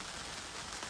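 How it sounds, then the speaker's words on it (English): Rain falls steadily, a soft even hiss close to an outdoor microphone at night, with no voices during this brief stretch. "All I can hear is rain."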